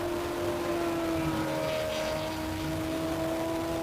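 A classic Ferrari V8 revs hard at a hillclimb, its engine note holding steady and loud throughout with a sustained tonal drone and no talk over it.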